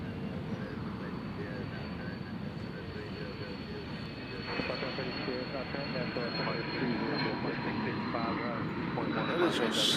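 An Airbus A350 passing at Nashville International Airport, a steady broad engine roar that swells slightly toward the end, heard under someone talking.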